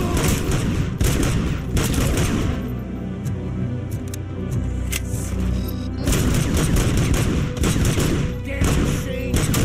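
Bursts of video game gunfire crackle in clustered volleys, with a quieter gap in the middle before another loud stretch of rapid shots and booms.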